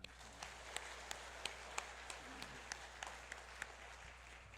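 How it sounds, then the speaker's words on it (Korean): A church congregation in Daegu claps together during a Sunday service. The sound is faint and distant, with evenly spaced claps in a steady rhythm. "우리 박수 한번 하겠습니다"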